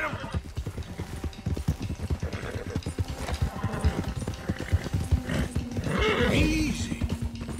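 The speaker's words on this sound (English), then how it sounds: "One of the stallions is loose." Loose stallion in Red Dead Redemption 2 neighing loudly while hooves clatter in a fast, steady gallop, the whinny rising near the end over constant hoofbeats.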